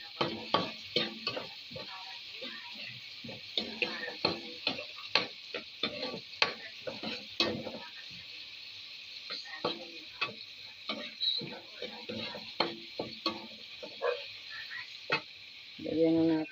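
Miswa noodles and sponge gourd (patula) with garlic sauté in a pan, giving quiet sizzling with a steady series of sharp stirring clicks and scrapes, close up with no talking.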